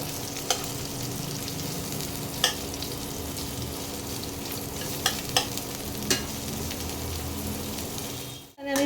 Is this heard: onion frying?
yes